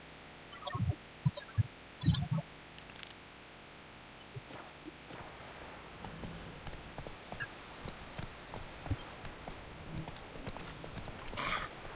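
Horse hooves clopping in The Witcher 3, a few sharp clustered clops early on, then lighter, irregular hoof clicks and faint footfalls continuing quietly through the rest.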